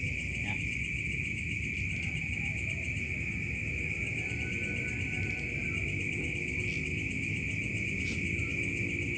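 Crickets trill steadily at night beside a banana tree, a high, unbroken chorus that runs the whole time over low background rumble, with a faint voice now and then.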